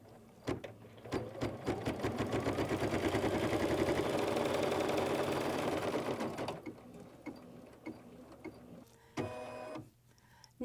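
An embroidery machine stitches a winter snowflake quilt block in the hoop, a steady rapid mechanical whir for several seconds, then slows into clicks and a short high-pitched motor buzz near the end.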